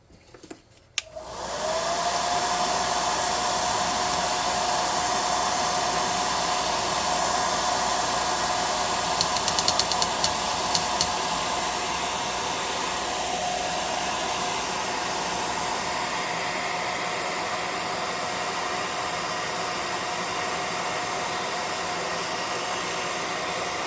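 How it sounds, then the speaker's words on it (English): Hot air gun blowing on ooze: the blower switches on with a click and settles into a loud, steady rushing whoosh that runs unbroken for over twenty seconds, close by with no talk. "Alright, we're going to hit this with hot air again."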